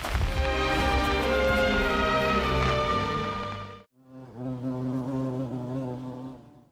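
A bee flies with a loud, steady buzzing drone that breaks off briefly near the middle, then resumes a little fainter.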